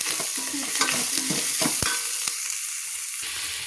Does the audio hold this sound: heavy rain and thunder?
no